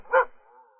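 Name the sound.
dog barking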